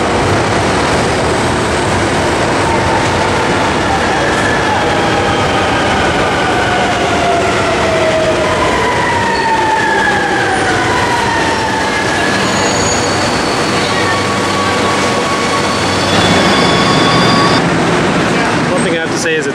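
A Shanghai subway train rumbles along at speed, with a continuous roar of wheels on rails and rising and falling squeals of wheels in curves. Faint voices are heard inside the car.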